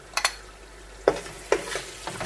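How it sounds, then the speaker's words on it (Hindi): Tomato paste fries in a pot of dal gosht, with a soft low sizzle. Several distinct stirring scrapes and clacks of a spoon come at irregular intervals over a short span. "टमाटर डालने के बाद कुछ देर तक भूनेंगे"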